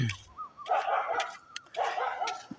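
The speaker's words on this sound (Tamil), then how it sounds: "இவங்க வந்து நிறைய நாய் வளர்க்குறாங்க." Dogs at a home where many are kept bark and yip in two close, loud bursts separated by a short pause, with no talking.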